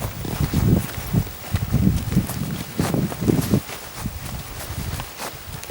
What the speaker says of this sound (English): Now this is the sheep coming in.